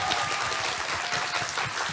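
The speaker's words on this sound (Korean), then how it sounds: "박수 한번 보내드리죠." Audience applause at a live public broadcast event, a dense steady wash of many hands clapping at close range, filling the moment without pause.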